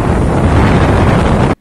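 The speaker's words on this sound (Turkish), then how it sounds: "Şiddetli rüzgar önünde çıkan her şeyi yıktı geçti." Strong wind battering Samandağ harbour on a stormy day, with the sea overflowing onto the shore: a loud, continuous roaring buffet of wind noise against the microphone, cutting off abruptly at the end.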